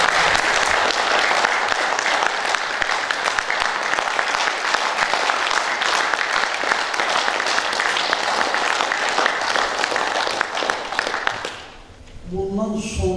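An audience at a 70th jubilee ceremony for a poet in Baku claps in a long, loud, dense round of applause that fades away near the end as a voice begins to speak.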